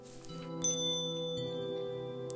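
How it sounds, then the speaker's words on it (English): A bell rung in the video game One Shot gives a struck chime with a bright onset that rings on in sustained tones and slowly fades, quiet and alone. "I'm gonna ring the bell."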